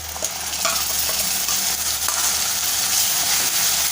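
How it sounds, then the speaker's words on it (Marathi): Coconut, garlic and ginger paste sautéing in oil over softened onion for a Malvani-style elephant yam curry, giving a steady, close, dense sizzle with faint stirring scrapes throughout and no talking. "छान तेलामध्ये आपल्याला परतवायचं आहे"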